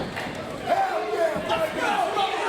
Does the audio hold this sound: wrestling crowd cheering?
yes